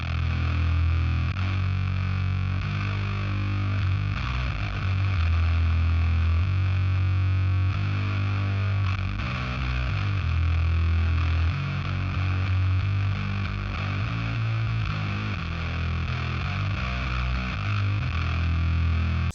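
Bass guitar played through a guitar distortion pedal with the gain cranked to noon, a thick fuzzy driven tone with heavy low notes that sustains continuously and loud throughout.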